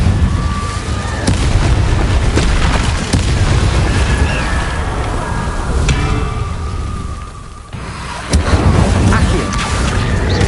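Booming fire spell blasts from Hogwarts Legacy gameplay, with several loud explosive bursts and crackling rumbles over dense battle noise, including sharp hits near the middle and end.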